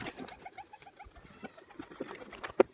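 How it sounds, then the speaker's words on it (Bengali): An old pet pigeon pecks seed from a hand, giving rapid light tapping and pattering up close with faint soft bird sounds. "আমার একটা পুরনো পায়রা হাতে খাচ্ছে"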